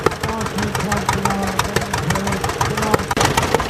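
A vintage Allis-Chalmers B tractor engine runs at a steady, loping idle with a rhythmic knocking chug, close and fairly loud at an outdoor tractor show as it heads into the ring.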